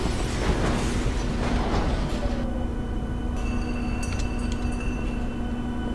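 A train rolls along inside a horror video game, a steady low rumble with a constant mechanical hum throughout, brief metallic screech and rattling details in the second half.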